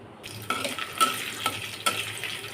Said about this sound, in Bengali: নারকেলটা আমি ডুমু ডুমু করে কেটে নিয়েছি, এটা আমি তেলে ভেজে নেব